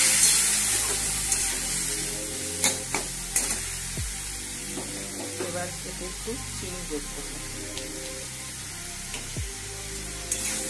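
Boiled pumpkin and Malabar spinach stems stirred in a frying pan, a low sizzle with occasional spoon scrapes and taps, close, over a steady background hum with tonal music underneath.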